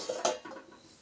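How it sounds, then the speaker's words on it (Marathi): Metal lid lifted off a cooking pot of freshly cooked tomato garlic rice, giving a couple of quick light clinks and scrapes up close, brief and fairly quiet. "आता झाकण उघडून बघायचं."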